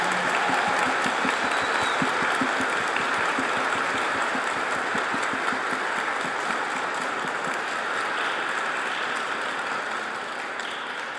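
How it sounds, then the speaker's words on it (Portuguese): Wedding guests at a ceremony clap for the newly married couple, a dense, steady patter of many hands that holds for the whole stretch and thins slightly toward the end. "Vamos dar uma salva de palmas para o novo casal"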